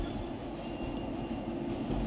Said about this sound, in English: now we are leaving the train